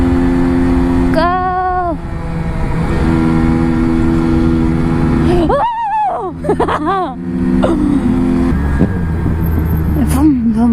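A motorcycle engine revs loudly and continuously, with several rising and falling throttle sweeps around people talking close by.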